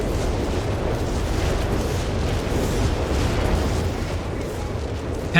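Whiz-bang artillery in Company of Heroes 3 hitting Fallschirmjäger infantry, a steady roaring wash of explosions and rumbling blasts filling the whole span, loud and dense, with no distinct single impact.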